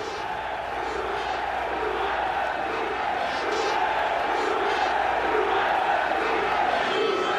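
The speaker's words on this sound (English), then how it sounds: "massive cries going up from the crowd of Juve," A huge crowd of Juventus supporters roars and chants across a packed stadium at Heysel in 1985, a dense, continuous wall of massed voices with steady rhythmic swells and no clear individual speech for the whole stretch.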